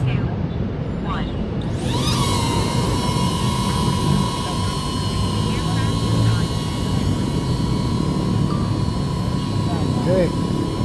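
A small DJI Neo 2 drone spins up and lifts off, its whine rising sharply and then holding as a steady high-pitched buzz over broadband rotor wash. It stays loud and close throughout.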